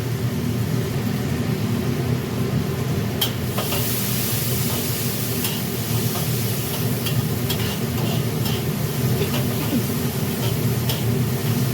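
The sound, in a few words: onions frying in a pan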